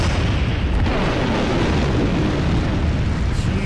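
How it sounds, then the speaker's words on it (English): A dense, sustained roar of an explosion at a scientific research facility in a video game, thick low rumble filling the whole stretch at steady loudness with no speech over it. "An explosion occurred."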